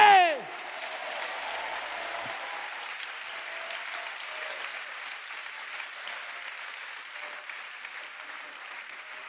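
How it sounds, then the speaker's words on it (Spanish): Church congregation applauding at a worship service, a sustained dense wash of clapping after a brief loud opening burst, steady and moderately distant without speech over it. "dele un aplauso al Señor si usted quiere estar bajo la sombra del Omnipotente"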